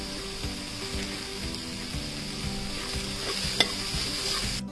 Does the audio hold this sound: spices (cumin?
yes